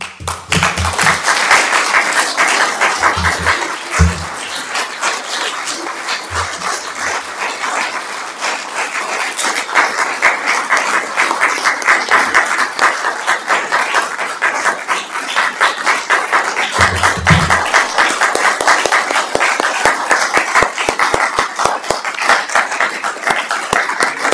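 Sustained applause from a large audience at a journalism prize ceremony fills the whole stretch, a dense steady wash of clapping with a few low thumps, no voices on top.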